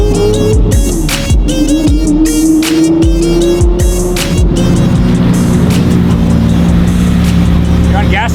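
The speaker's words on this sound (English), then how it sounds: "Oh, listen to that V12." A Lamborghini V12 revs and pulls hard, its rising engine note loud and close throughout, with rhythmic throttle pulses early on before a sustained, climbing drone.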